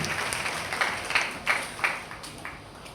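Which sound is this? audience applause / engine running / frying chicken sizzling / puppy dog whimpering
audience applause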